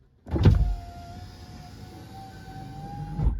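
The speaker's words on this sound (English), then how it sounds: "just so you can hear how these windows sound" An electric power window motor in a BMW E46 whirs steadily for about three seconds with a thin whine, starting and stopping with soft clunks; no one speaks.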